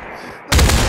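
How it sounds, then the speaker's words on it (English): A sniper rifle shot in the VR battle game Population One, a sudden loud broadband blast cutting in halfway through after near silence and ringing out to the end. "I got him with a sniper."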